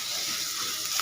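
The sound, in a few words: chilies frying in a pan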